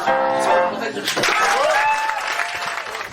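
A concert audience claps for a singing group performing as a trio with four on stage. Applause rises and then thins out, while a voice talks over it.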